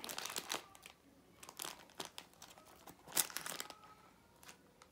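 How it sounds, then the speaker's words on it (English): Paper and tape handled for a paper squishy, a close, quiet series of crinkles and crackles with brief tearing rips, irregular and faint, with no speech. "I'm first gonna tape one side"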